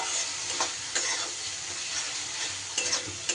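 Masala with turmeric and Kashmiri chilli powder frying in a pan: brisk close sizzling broken by several quick stirring scrapes, fairly loud and steady, with no voices.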